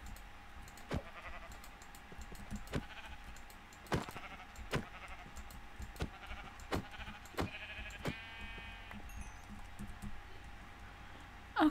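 A sheep bleats repeatedly in the Minecraft video game, its wavering calls set among sharp rhythmic keyboard typing clicks, with no talking.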